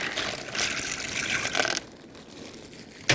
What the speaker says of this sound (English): I go wash my peas and things